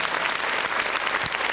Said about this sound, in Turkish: Kocaman alkışlar, kocaman, kocaman. Kesmez bu alkışlar